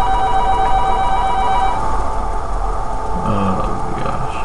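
A telephone rings with an electronic trilling tone over a low background rumble, then stops, leaving a faint hum with a brief tone near the end; no talk.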